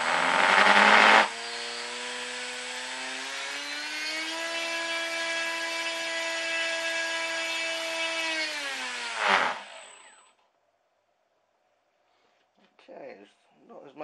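An electric motor spins a JXF gas propeller on a thrust test stand. It spools up to a loud, steady whine that holds for several seconds, then cuts off and winds down into near silence, followed by a few faint sounds.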